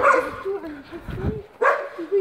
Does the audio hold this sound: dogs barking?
yes